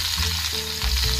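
Garlic and chili fry in hot oil in a wok, giving a close, continuous sizzle with low hum underneath and no voices.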